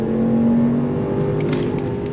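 A 2024 Range Rover Autobiography accelerating hard as its ZF 8-speed automatic downshifts, the engine giving a steady, loud, rising drone heard from inside the cabin.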